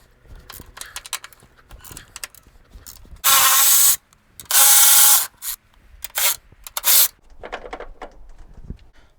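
Strut tower nuts and a bolt being loosened and removed on a Toyota Tercel, heard as ratcheting clicks, metallic jangling and three loud, sustained bursts from a power tool, close by with no talking.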